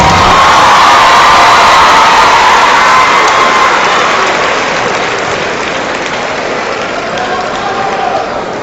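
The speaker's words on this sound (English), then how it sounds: "Please give them all a big round of applause." Loud applause and cheering from a large crowd at a boys 2A high school basketball championship trophy presentation, a dense sustained roar that eases slightly toward the end.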